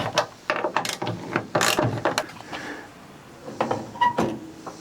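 Metallic clicks and clunks from the door latch mechanism of a 1962 Chevy truck being worked repeatedly, sharp ratcheting bursts in uneven clusters, close up and with no talking.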